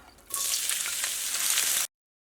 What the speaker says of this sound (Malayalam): വെളിച്ചെണ്ണ നന്നായിട്ട് ചൂടായിട്ടുണ്ട്. ഇനി ഇതിലേക്ക് നമ്മൾ കട്ട് ചെയ്ത് വെച്ചേക്കണ നമ്മുടെ സവോളയും പിന്നെ പച്ചമുളകും ഇഞ്ചി ഇത് ചേർക്കുക.